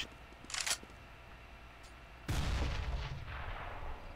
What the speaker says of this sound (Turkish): Götümde bomba patladı.